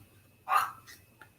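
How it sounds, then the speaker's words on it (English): A single soft, breathy yawn-like squeak from a dog, brief and nearby, followed by a faint short grunt; otherwise quiet. "that was my dog yawning."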